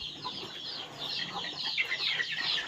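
Native country chickens in a combined goat and poultry shed, a quiet chorus of soft clucks and chirpy calls from many birds together, fairly faint and continuous in the background.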